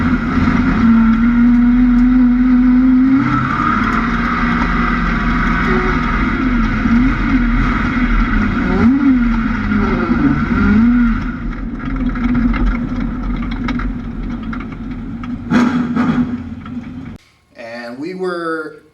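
A race car engine at Evergreen Speedway on the 5/8-mile oval drones loudly and steadily, its pitch rising and falling as it laps, under someone talking, before a brief noisy burst at the end.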